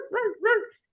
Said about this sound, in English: the baby Doberman was barking